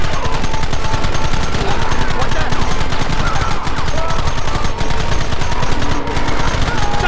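Loud, sustained gunfire in the video game Red Dead Redemption, a dense continuous volley of overlapping rifle and pistol shots that keeps going without a break.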